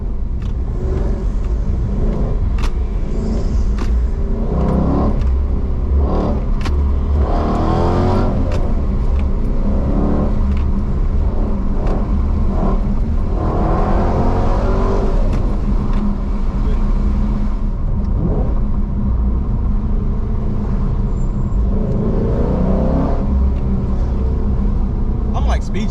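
A manual Dodge SRT engine rumbles and surges through hard pulls, loud and close, with repeated bursts of revving and gear changes over several seconds, while people talk and exclaim over it inside the car.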